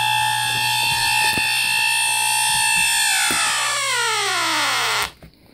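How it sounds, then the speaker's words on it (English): A refrigerant leak detector's electronic alarm, probed at a leaking coil on a Nordyne downflow trailer heat pump, shrieks loudly and steadily, its tone sweeping and breaking up before cutting off abruptly near the end. "The leak detector doesn't lie."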